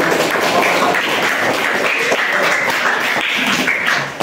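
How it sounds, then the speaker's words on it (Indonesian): A physical-fitness class claps together: a sustained, close, fairly loud patter of many hands that stays even throughout and fades slightly at the very end, with no talking. "Oke, beri tepuk tangan."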